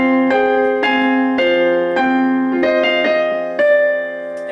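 Slow piano playing of a song with both hands, a series of sustained chords and bass notes struck one by one at an unhurried pace, close and clear with no talking.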